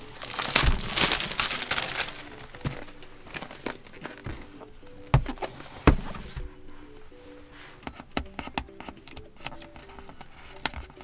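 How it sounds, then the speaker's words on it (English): Knife slicing and tearing through the foil packaging of a Lenovo Tab K11 Enhanced Edition tablet box, giving close crinkles, scrapes and sharp crackling snaps in irregular bursts, with quieter rustling between them. "some kind of knife so I can cut my way through the foil."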